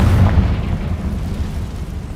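A fiery Confringo spell blast in the Hogwarts Legacy video game, a loud deep explosive boom that rumbles and fades over a couple of seconds, no voices.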